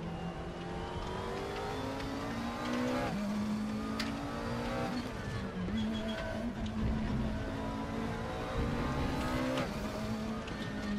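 McLaren MP4 12C GT3 race car from 2014 lapping the Nürburgring in RaceRoom Racing Experience, its engine droning loud and steady with rising and falling revs through gear changes and continuous running.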